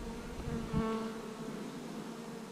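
A steady, close insect buzz from many honeybees on a hive frame fills the clip, with a brief louder swell near the start before settling into a continuous drone.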